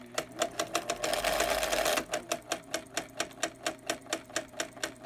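An Elna Grasshopper portable electric free arm sewing machine, run by knee control, stitches red fabric in steady rapid clatters with a brief burst of faster continuous running midway, close and clear.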